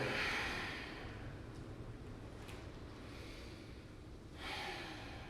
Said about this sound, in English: Inhale and exhale.